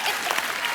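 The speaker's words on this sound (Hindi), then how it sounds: "ठोको ताली ठोको." Studio audience applause on a Hindi comedy talk show, a steady dense wash of clapping that holds level for under a second with no break.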